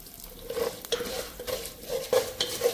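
Raw rice and whole urad dal roasting in a pan over a medium flame, stirred with repeated scraping strokes and a soft dry rattle of grains, close and alone with no voices.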